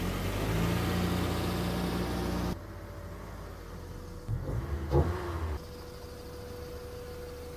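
A Mazda Miata engine fitted with a cheap homemade air intake runs loudly at first, then cuts to a quieter idle with a couple of brief revs and clunks.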